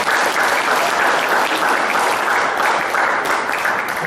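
Steady, loud applause fills a church during a wedding ceremony, right after the vows are spoken, sustained without pause for the whole stretch with no voices over it.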